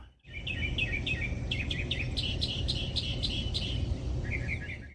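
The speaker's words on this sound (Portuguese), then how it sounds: "tucanos observam do alto e sabiás entoam suas melodias" Thrushes sing phrases of bright, repeated whistled notes over a steady rushing background hiss.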